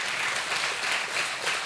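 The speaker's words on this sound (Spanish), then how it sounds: "Den un aplauso al Señor si quiere" A church congregation claps together in a short, steady burst of applause that carries on for nearly two seconds at moderate volume.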